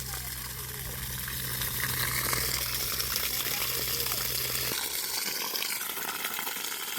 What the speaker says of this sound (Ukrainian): напор води.